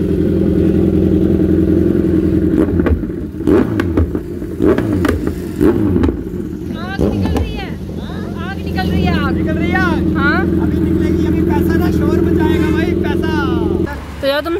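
Yamaha Ray scooter fitted with an aftermarket Arrow exhaust, its engine holding a steady loud drone with a few blips of revving, while people talk over it throughout.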